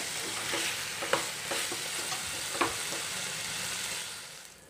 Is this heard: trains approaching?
no